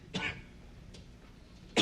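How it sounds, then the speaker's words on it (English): A couple of isolated coughs from a scene of the sitcom Sanford and Son, one near the start and a second at the end, fairly faint, with a quieter throat sound between them. "It's coughing away."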